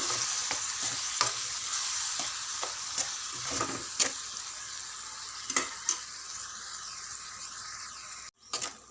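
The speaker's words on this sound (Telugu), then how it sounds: "అంతా కలిసినట్టు మంచిగా కలుపుకోవాలి" Tomato paste is stirred into a frying raw banana curry, giving a steady sizzle broken by repeated scraping and tapping of the spoon in the pan.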